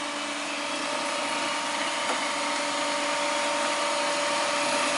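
An Elliott 921 two-axis hydraulic surface grinder with a permanent magnetic chuck hums as its spindle runs, a steady, close, broadband whir with constant tonal drone and no pauses.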